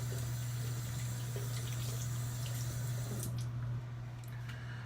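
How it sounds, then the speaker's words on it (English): Running tap water pours steadily over a hand being rinsed of shaving soap at a sink, a continuous close wash with a low hum underneath that thins out near the end. "Let me rinse this hand off."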